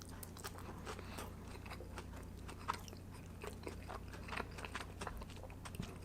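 Close-mic chewing and crunching of food from a Turkish food platter during a mukbang, a steady run of small wet bites and crisp crunches with no talking.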